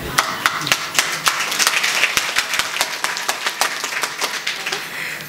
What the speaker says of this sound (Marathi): टाळ्या वाजतात पण अशी मरगळाल्यासारखी वाजतात